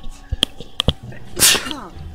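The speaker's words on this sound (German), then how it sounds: "Niesen, Entschuldigung." A character in the video game Harveys neue Augen lets out one sharp, voiced sneeze near the end, performed by a voice actor, after a few soft clicks and brief sounds.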